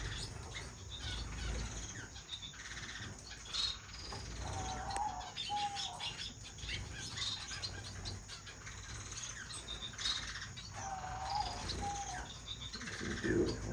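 Society finches and owl finches in an aviary chirp softly and intermittently, with brief tweets and cheeps scattered over a faint, steady background hum, and no one speaks.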